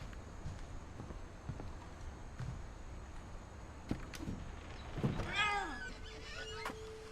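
A cat meows once in the video game What Remains of Edith Finch, faint and somewhat distant, amid quiet background noise with a few soft thumps and footsteps.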